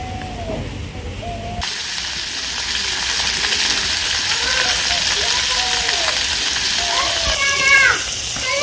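Sing fish frying in hot oil during village-style cooking, a dense, steady sizzle and hiss that jumps louder early on and continues throughout, with faint voices and other tonal sounds in the background.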